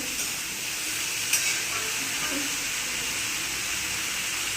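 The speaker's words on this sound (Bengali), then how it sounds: "হ্যাঁ, এটা একটু ভালো করে নাড়তে হবে, যেহেতু সবজিটা এখন দেওয়া হলো।" Eggplant and carrot curry sizzling steadily in a pan while it is stirred, a close, continuous frying hiss with soft scraping, and a brief louder clink partway through.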